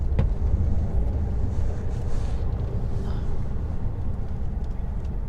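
A UK HGV lorry hauling a small trailer for collecting logs creeps forward with a continuous low, heavy engine rumble heard from the cab, with faint clunks over the drone.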